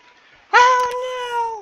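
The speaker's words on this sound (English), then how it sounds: "Is the cat playing with those?" A single drawn-out cat meow from the video game Stardew Valley, loud and close, rising sharply then holding steady for about a second.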